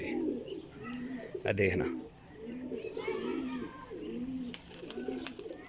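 Young Teddy Batera pigeons coo in soft repeated rolling calls, close up, with high chirps overhead and someone speaking briefly partway through.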